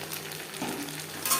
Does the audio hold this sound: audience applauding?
no